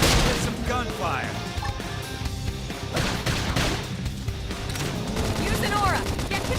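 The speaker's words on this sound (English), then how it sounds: "top with some gunfire!" Rapid bursts of gunfire from the video game Xenoblade Chronicles X, crackling in loud clusters over busy combat effects while a player shouts and talks throughout.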